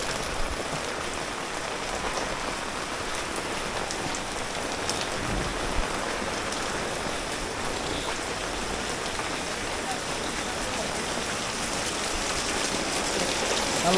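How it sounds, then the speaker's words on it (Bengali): Heavy rain pouring down at a village market, a dense, even roar of drops hitting surfaces that holds steady throughout, close and loud. "এখন বৃষ্টি শুরু হয়েছে, অনেক বৃষ্টি"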